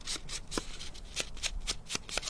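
Sheets of paper handled for a paper-crafting ribbon storage project, giving quick rhythmic crisp flutters and rustles, about a dozen short bursts, close and fairly quiet.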